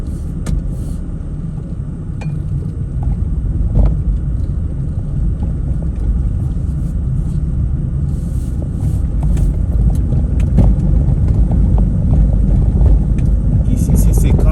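Car driving along a road near Meaux on a driving test route, a steady loud low engine and tyre rumble from inside the cabin, with someone talking over it throughout.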